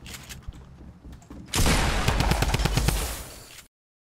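Drum gun firing in Fortnite: after quieter game sounds, a loud, dense burst of rapid shots begins midway and runs steadily for about two seconds before cutting off.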